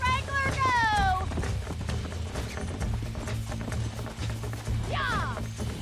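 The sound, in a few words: horse galloping in video game Red Dead Redemption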